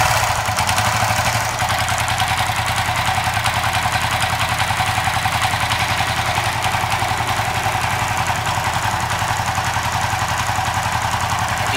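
Motorcycle with a stock TCI ignition idling steadily nearby, a loud continuous low rumble with a fast, even pulse and no speech throughout.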